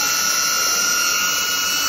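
DJI Avata drone propellers buzzing loudly, a steady high-pitched whine close by that holds unchanged throughout, with no talking.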